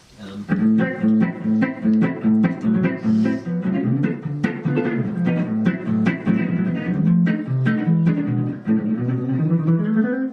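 A guitar plays hot jazz, or gypsy jazz, in an up-tempo 1920s–30s style, with fast rhythmic strummed chords and quick single-note runs in a steady, driving pulse, close and clear, with no talking.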